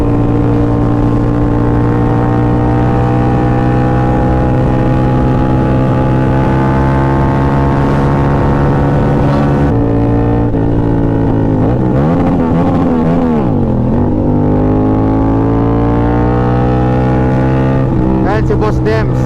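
A Yamaha MT-09 motorcycle rides on a chill group ride, its engine droning loud and steady up close in a sustained harmonic hum that dips and rises as the throttle changes, with voices talking over it.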